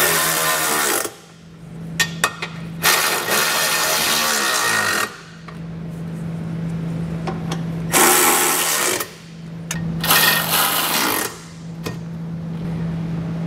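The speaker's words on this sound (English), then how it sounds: "we'll grab our socket and get everything snugged down" Socket wrench snugging down bolts on a Curt trailer hitch being installed on a 2019 Toyota Prius, heard as bursts of rapid ratcheting with a steady low hum underneath and short quiet gaps between.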